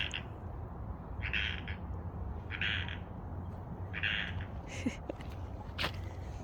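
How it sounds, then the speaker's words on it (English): A frog croaks outdoors in a garden, a few short raspy calls repeating at a steady pace over a low constant outdoor hum, with faint bird chirps mixed in. "Can you hear that frog?"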